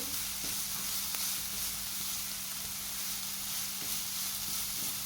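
Grated carrot frying in ghee in a pan for carrot halwa, a steady, soft sizzle running throughout with a low hum beneath and a few faint stirring taps.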